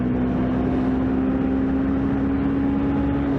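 A 125cc motorcycle cruising on a freeway, its engine holding a steady, continuous drone under loud, constant wind rush, with no talking.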